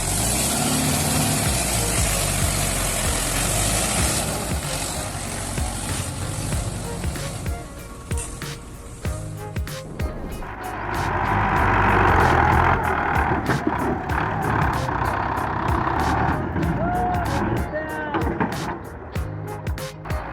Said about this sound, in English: With a mountain of soil to move, the tractor is clearly struggling.